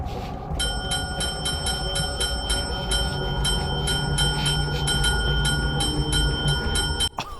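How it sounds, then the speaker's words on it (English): A small bell is rung over and over in Breaking Bad, with a quick series of evenly spaced, bright dings above a low rumbling background. The ringing stops abruptly near the end. "That bell is as terrifying as ever"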